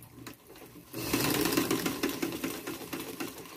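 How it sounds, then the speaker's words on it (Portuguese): Sewing machine stitching a tea towel, starting with a short burst, a brief pause, then a fast, even mechanical chatter that runs steadily to the end, close and without speech. "Vamos começar a costura com retrocesso."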